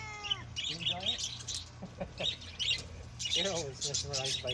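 Birds chirp and tweet in quick bursts nearby, clear and fairly loud, mixed with people talking over them.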